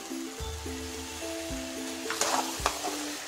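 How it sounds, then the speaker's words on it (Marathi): Ground masala paste sautéing in a pan for veg biryani, a steady close sizzle that swells briefly with stirring, with tonal music running underneath. "आणि हे आता चांगलं परतून घेऊया"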